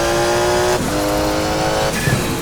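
Porsche 956 Group C race car at a historic event at Jacarepaguá, its engine loud and close with a steady high rev, dropping sharply near the one-second mark, climbing again, then cutting off briefly before picking back up.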